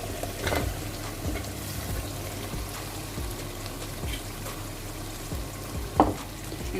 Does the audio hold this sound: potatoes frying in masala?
yes